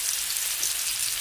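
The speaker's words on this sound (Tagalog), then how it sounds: "Dahil mainit na ang ating mantika guys, ilagay na natin ang bawang at saka sibuyas guys." Garlic and onion crackle in hot oil with a dense, even sizzle, close and loud.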